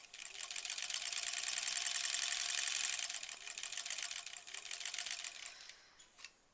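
Sewing machine stitching quilt sashing for a granny squares quilt, a rapid close mechanical rattle running steadily for several seconds, then slowing into a few uneven bursts before stopping with a final clack.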